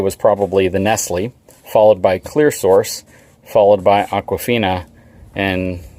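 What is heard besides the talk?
No everyday noises stand out.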